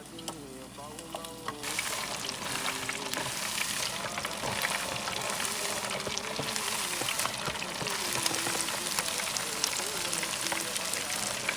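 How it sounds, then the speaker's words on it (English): Seasoned fish for tacos is deep fried in hot oil, a loud, dense sizzle and bubbling crackle that jumps up as the pieces go in and then holds steady at close range, with faint talk underneath. "So now let's get straight into frying it."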